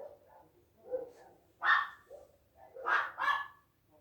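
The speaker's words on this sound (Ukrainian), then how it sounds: "сусідів теж, похоже, є пес" A dog barks several times in short irregular bursts, somewhat distant and muffled, with quieter whimpery yips between the louder barks.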